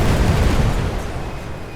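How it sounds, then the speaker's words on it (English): Heavy cannon shot in The Great War 6.0 World War I strategy game, a loud deep rumbling boom that decays slowly over a couple of seconds, heard alone. "heavy cannon shot."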